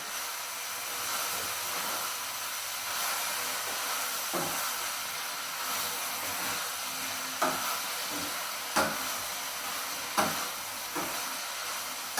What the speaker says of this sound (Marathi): आता आपण हे सगळे मिश्रण पुन्हा हलवून घेऊ